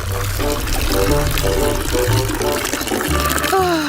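A full bucket of water pours out in a steady, loud rush, close by, with music and a rising whistle-like tone running underneath.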